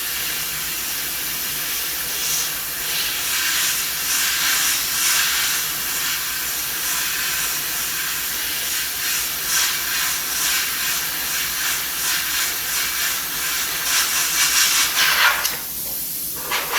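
An airbrush sprays paint onto a freehand shield over a metallic panel with rivets, giving a steady, close, continuous hiss that swells slightly in places and cuts out briefly near the end before restarting.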